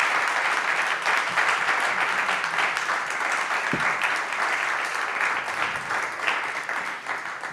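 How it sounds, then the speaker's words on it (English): An audience at an opera conversation event gives panelists a steady round of applause. It is dense and sustained from start to finish and fades slightly toward the end. "Can we give a round of applause for our panelists?"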